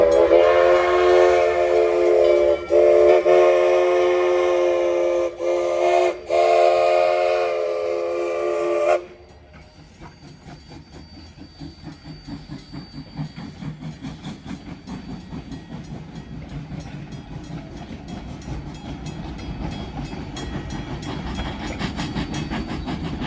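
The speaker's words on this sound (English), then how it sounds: "RGS 20 and train again cross the main entrance crossing." Narrow gauge steam locomotive RGS 20 and its train crossing at the main entrance crossing: a loud, long steam whistle blast with short breaks for about nine seconds, then steady rhythmic clanking and rumbling of the passing cars, with no talk.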